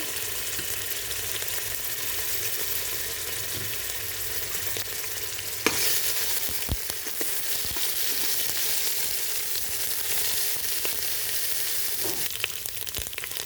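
Onions fry with ginger and garlic paste in a pan, a loud continuous sizzle and crackle up close, stirred now and then with a few sharp scrapes.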